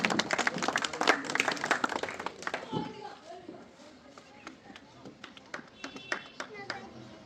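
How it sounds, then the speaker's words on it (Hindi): Audience applause at a village honouring ceremony in a rural Indian community, a burst of dense clapping in the first few seconds, then thinning into scattered claps under ongoing speech. "जोरदार तालियां इनके लिए"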